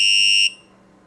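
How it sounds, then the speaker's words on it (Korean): A shrill, high electronic buzzer tone from an intrusion-detection alarm's buzzer speaker sounds steadily for half a second, then cuts off abruptly, leaving a faint hum. "부저 스피커의 소리가 나는 걸 확인할 수 있습니다."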